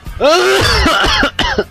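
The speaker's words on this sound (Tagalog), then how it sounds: "Umubo ka." A person coughs several times in quick succession, loud and close, a harsh throaty burst followed by two shorter coughs.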